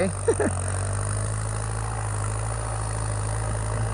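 A tractor engine idles with a steady, low, rumbling drone, close by and unchanging, in a rice field. A brief voice is heard at the very start.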